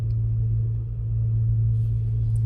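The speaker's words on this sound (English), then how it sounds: "why does my car sound like that?" A car in use with a strange fault noise: a steady, loud low rumble and drone close by, holding level for a couple of seconds with no talking.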